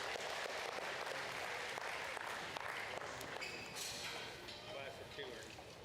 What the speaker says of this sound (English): Let's give them all three a big round of applause.